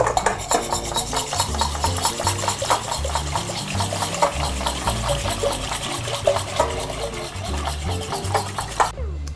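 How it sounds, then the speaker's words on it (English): A whisk beats milk into a roux for macaroni and cheese sauce in quick, steady scraping strokes against the pan, close and fairly loud, with no talk over it. "To my roux, I'm gonna add my milk and whisk it in."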